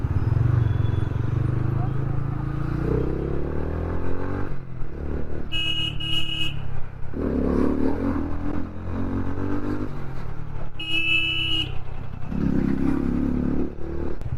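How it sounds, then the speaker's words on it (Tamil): Heavy road traffic idles and moves at a signal during a monsoon motorcycle ride toward Chikmagalur in the Western Ghats. Engines rumble steadily, with two sharp horn blasts, under someone talking throughout. "எங்கே போனாலும் இந்த சிக்னல் போட்டாங்கன்னா செம்ம டிராஃபிக் தான் ஆயிடுது."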